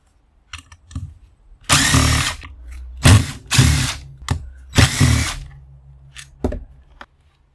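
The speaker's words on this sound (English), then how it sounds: "Now I just need to remove these 3 screws." A power tool drives out three screws from a blender being scrapped for copper, working in several short whirring bursts separated by pauses, loud and close with faint clicks between.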